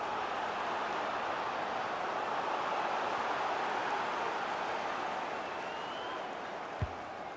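A stadium crowd in the football video game FIFA 19, a broad, steady roar of thousands of fans that swells slightly and holds throughout, with a single sharp thump near the end.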